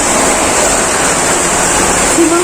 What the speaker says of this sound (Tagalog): Hala, ang lakas na ng ulan.